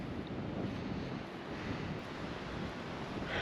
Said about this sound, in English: Yeah, that wind is definitely picking up.